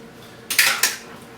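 Eggs crack against a Magic Bullet blender cup in two sharp, close clicks about a quarter second apart, followed by brief rattly settling in a quiet room with no talking.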